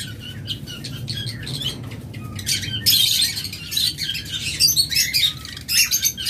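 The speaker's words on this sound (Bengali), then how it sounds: "হিউজ পরিমাণ ককাটেল রয়েছে" A large flock of cockatiels in a seller's aviary chirps and squawks continuously, a dense layer of overlapping bright calls with sharper squawks bursting out, under a low background rumble.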